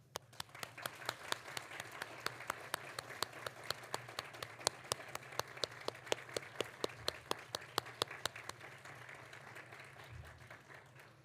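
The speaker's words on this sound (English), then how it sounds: "And now join me in a round of applause." Sustained applause from a graduation ceremony crowd, many hands clapping steadily and densely for about ten seconds before it tapers off.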